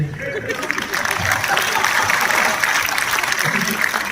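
Audience at a Hindi comic poetry gathering in Haryana claps steadily after a short pause, a dense, sustained round of applause with some crowd murmur underneath.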